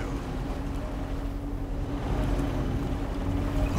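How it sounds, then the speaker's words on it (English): Vehicle engine running in the video game Halo Wars 2, a steady low rumble humming continuously at moderate volume, alone with no speech. "Listen to that engine purr!"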